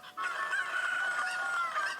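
Cuckoos, the chickens of Zelda: Ocarina of Time, cluck and crow in a steady chorus of bird calls that holds for about two seconds at moderate volume, with no voices over them.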